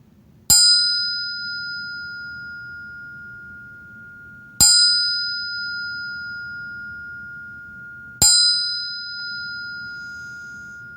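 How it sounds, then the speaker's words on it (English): Three clear strikes of a meditation bell, evenly spaced about four seconds apart, each ringing out and slowly fading in a quiet room. "And so with that, I'll sound the bell."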